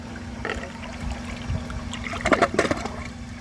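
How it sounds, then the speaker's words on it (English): A Vortens Vienna toilet drains water out of its trapway with a faint, close gurgling trickle over a steady low hum, ending in a few brief sucking splashes. "I love how it drains almost all the water out of the trapway"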